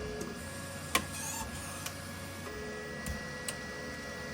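A 3D printer preheats while a Mosaic Palette 3 Pro splices filament, a faint steady hum with a few sharp clicks and ticks scattered across the quiet background.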